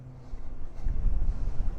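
Gusty wind on a high tower buffets the microphone with low, rumbling roars that swell and fade, growing stronger halfway through.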